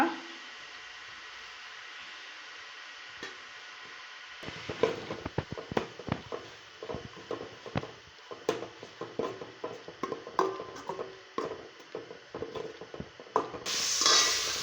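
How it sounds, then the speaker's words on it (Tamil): Ginger garlic paste with mint and coriander sautéed in a pan: a faint hiss at first, then a run of scraping and stirring clatters with soft sizzling underneath, close by and without speech. "பாருங்கள் இஞ்சி பூண்டு பேஸ்ட்டு புதினா கொத்தமல்லி எல்லாமே நல்லா வதங்கிடுச்சு"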